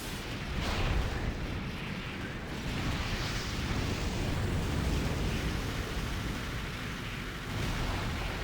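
Flash rockets exploding in the strategy game Supreme Commander: Forged Alliance, a dense, continuous roar of overlapping blasts and rumbling booms sustained for several seconds, loud and close, with no talk.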